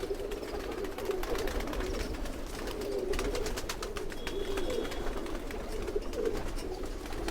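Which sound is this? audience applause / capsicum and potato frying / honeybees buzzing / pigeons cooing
pigeons cooing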